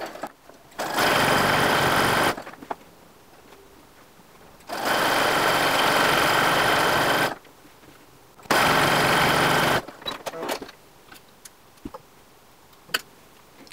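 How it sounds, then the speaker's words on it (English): A sewing machine runs steady stitching over flattened elastic on a half slip. It whirs in three long, loud bursts with pauses between them, and faint ticks and clicks fill the quiet gaps. "I'm going to pull on the elastic again to get it flattened and stitch right over"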